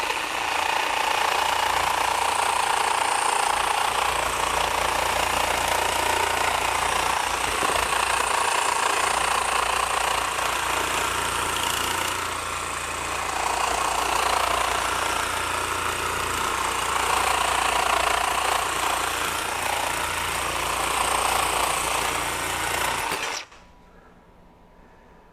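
A Makita 40V XGT second-generation reciprocating saw cuts through thick metal, a loud, steady buzzing grind with rasping, rattling blade strokes that runs continuously for about 23 seconds before stopping abruptly.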